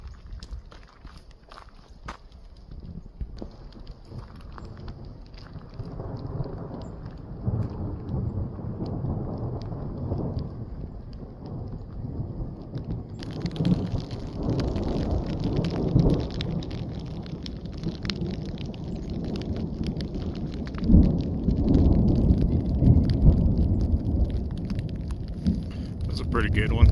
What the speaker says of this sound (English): And it's gonna rain again because I'm camping.